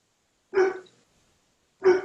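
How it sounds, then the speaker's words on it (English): Odie, a young dog who will grow very large, barks outside in the dark: two single sharp barks about a second apart, fairly close and clear against silence. "He's outside barking because he doesn't like the dark"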